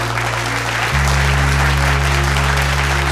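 An audience gives loud, sustained applause for a Punjabi singer at a live gathering, a steady broadband clapping over a low, humming musical drone.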